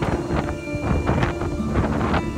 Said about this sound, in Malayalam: മുകളിൽ കോടയും അതേപോലെ ഇതുപോലെ തീവ്രമായ കാറ്റുമാണ്